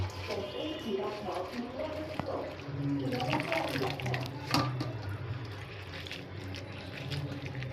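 Water splashes and trickles as moringa leaves and flowers are rinsed under a running tap, with soft sloshing and handling at low level and a voice talking over it.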